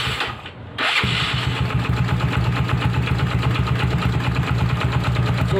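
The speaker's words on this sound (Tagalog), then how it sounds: "ayun yung tunog niya pagka naka-idle siya" A Mio Sporty scooter-style motorcycle with a straight pipe exhaust and big valve setup idles close by, a steady low, throbbing putter after it starts within the first second, continuing evenly with no voices.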